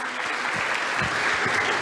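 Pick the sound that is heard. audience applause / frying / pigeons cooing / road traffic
audience applause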